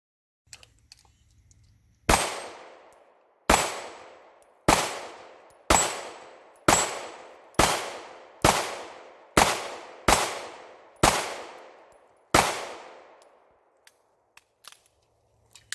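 A Springfield Armory Hellcat pistol fires at a shooting range: ten loud, sharp shots in a steady, slightly uneven string, each with a short decaying ring, then a few faint clicks and handling sounds afterwards.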